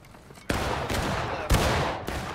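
Musket fire in the Civil War game War of Rights, with overlapping gunshots that merge into a dense, continuous crackle and sharp louder cracks near the start and middle, fairly close.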